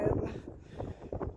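Gusty wind buffets a microphone outdoors, a low rumbling roar that swells and dips in pulses. It is faint overall.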